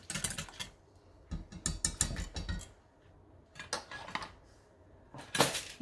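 Egg yolk custard is stirred with mandarin crumbs in a bowl. A spoon scrapes and clinks against the dish in irregular bursts, close and fairly loud, with short pauses and no talking.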